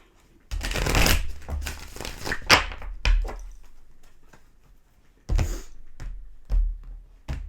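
Tarot cards shuffled by hand in bursts of riffling and bridging, with a longer ruffle at the start followed by shorter sharp card slaps and pauses between them, close and fairly loud with no talking.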